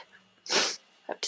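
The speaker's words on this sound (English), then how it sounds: "I have to sneeze." A single loud, close human sneeze: a short indrawn breath followed by a sharp explosive burst, then a quick breathy sound at the end.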